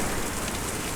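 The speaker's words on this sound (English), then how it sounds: "the rain falling, it's really gorgeous" Rain falling in the video game Kentucky Route Zero, a steady, dense hiss of drops on surfaces with no break and no voices, heard close and even throughout.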